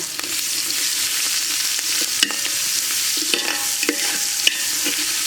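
Spices, onion, garlic paste and shrimp frying in oil while being stirred, a steady close sizzle with scattered clinks and scrapes of the spoon against the pan.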